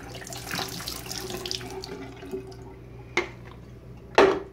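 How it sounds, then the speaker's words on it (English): Wash water pours out of a 35mm film developing tank into a sink in a continuous splashing stream, followed by a couple of short louder gushes and drips near the end. "Once you're done washing your film, go ahead and pour out all the water."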